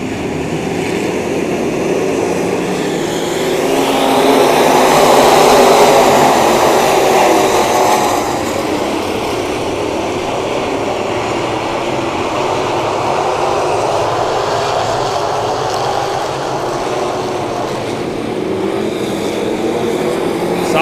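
Race cars roaring past at Maquoketa Speedway dirt track, a loud broadband engine drone that swells as the pack sweeps by near the middle and then settles into a sustained distant rumble.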